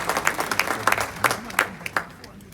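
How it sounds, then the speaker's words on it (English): An audience at a Zimbabwean finance panel event claps in a short burst of crisp, uneven hand claps. "Big round of applause."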